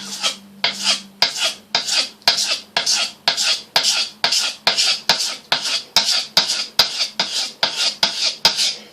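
A kitchen knife's curved edge is drawn in circular, flicking strokes across a sharpening stone, producing a steady run of about seventeen close, evenly spaced rasping scrapes with no talking.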